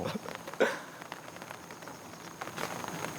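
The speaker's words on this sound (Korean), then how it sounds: "낮에는 또 햇빛이 쬐더니 또 비가 오네" Steady rain falls outdoors at night, a soft, even hiss that holds for the whole stretch, with a brief clatter near the start and no voices.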